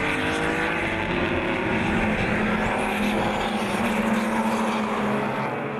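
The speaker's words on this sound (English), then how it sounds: "a bustling group of BMWs heading towards Turn 2" A pack of BMW race cars roars toward Turn 2 in a club circuit race, several engines blending into a loud sustained howl with shifting pitch and a hint of tire squeal.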